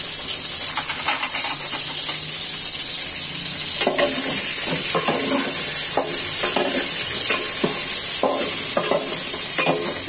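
Rohu fish pieces stir-fried in a pan for a pumpkin curry, a steady hiss of oil with repeated scraping strokes of a spatula from about four seconds on, close and fairly loud, with no talk.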